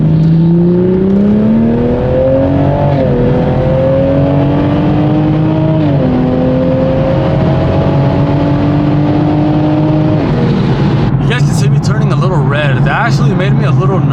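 A drag-pack-equipped MKV Supra pulls hard in third gear on a highway, engine note climbing steadily and loud in long rising sweeps with brief dips at shifts, then a rough, fluttering burst near the end.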